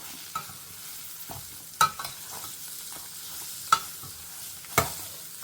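Ridge gourd sautéed in a pan: a low, quiet sizzle broken by a few distinct scrapes and taps of a spatula against the pan, spaced about a second apart.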